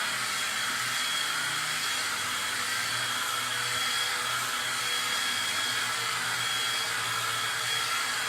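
A hair dryer blows steadily and loudly over wet transfer paste, a constant unbroken whoosh with no other sounds.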